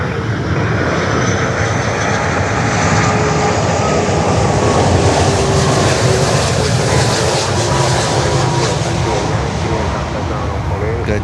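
Jet engines of airliners at Miami airport roar loudly and steadily, a dense continuous rumble and whine that fills the whole stretch, with talk faintly underneath.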